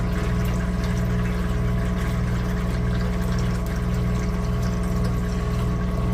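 Liquid steadily poured through filters while refining sterling silver, a continuous even rushing under a constant motor-like hum, with no talk.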